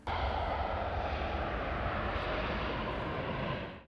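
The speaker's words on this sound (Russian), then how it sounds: "Небольшое ожидание и Боинг взлетает, унося верующих к главной святыне ислама." A Boeing 757 airliner carrying pilgrims takes off, its engines producing a loud, steady broadband roar that holds throughout before cutting off abruptly.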